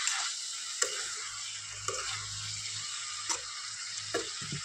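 Spices and green beans fry in a pan with a continuous bright sizzle, broken by several sharp scraping knocks as they are stirred, all close up and with no voice.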